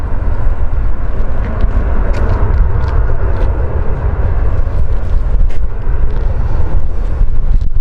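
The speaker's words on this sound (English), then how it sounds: "A340 we get, the Punta Cana, will be the arriving aircraft." An Airbus A340 arriving at Zurich from Punta Cana, heard as a loud, steady broadband roar with some wind buffeting throughout and no talking.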